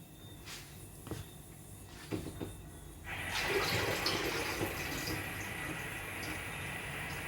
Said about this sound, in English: we're gonna have to add a little bit of water and mix it on out